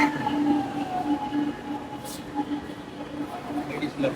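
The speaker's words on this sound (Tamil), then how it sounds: "ட்ரெயின் வருதுவா?" A train pulls into a metro station, a steady rumbling rail drone with faint squealing tones running throughout, under people talking nearby.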